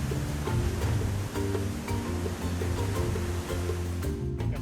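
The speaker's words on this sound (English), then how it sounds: "simply listen to the sound of the river flowing past" The Nile River in Uganda rushes past below rapids, a steady, loud broadband wash of flowing water with low churning rumble, continuous and close throughout with no voices.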